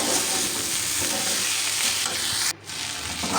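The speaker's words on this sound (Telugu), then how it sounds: "బెండకాయలు దానికి బాగా మిరప్పొడి పట్టేలాగా బాగా కలపండి" Okra fry with chili powder being stirred in a hot pan: a steady, close sizzle with scraping stir strokes running throughout, broken by a brief quiet dip near the end.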